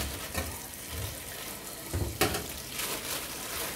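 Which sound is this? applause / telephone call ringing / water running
water running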